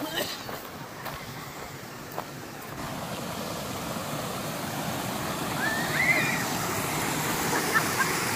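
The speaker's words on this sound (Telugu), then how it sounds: "ఇదే వాటర్ ఫాల్స్" Water rushes steadily at Chelimichenu waterfalls, a constant broad roar that swells slightly toward the end, with faint crowd voices blended into the spray.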